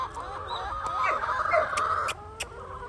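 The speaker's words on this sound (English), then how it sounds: "A chicken." Backyard chickens clucking and murmuring close by, a busy overlapping chorus of soft calls with a few sharper squawks, no talk.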